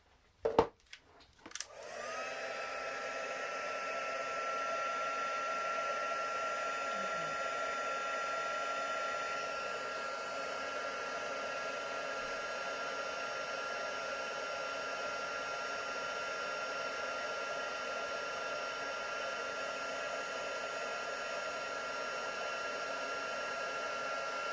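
A heat tool melts embossing powder on small card pieces for a Stampin' Up! card. It starts after a few clicks and then blows a steady, close whooshing drone for over twenty seconds with no talking.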